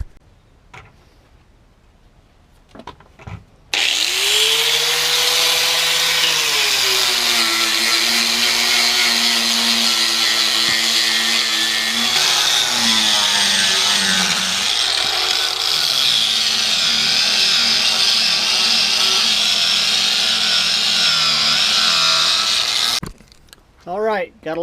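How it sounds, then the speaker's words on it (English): A baler plunger from an MF12 baler being welded to fill worn grooves, a loud continuous close crackling buzz of the arc running steadily for about twenty seconds, bracketed by quieter moments at start and end. "got a line of weld in there to fill all those grooves up"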